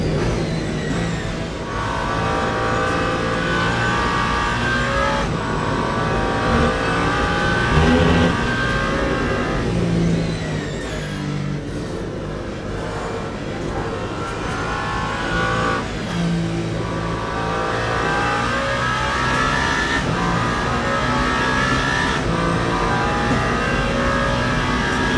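Race car engines in the Le Mans Ultimate racing game drone loudly and steadily for the whole stretch, with rising and falling revs, gear changes and passing cars layered over each other.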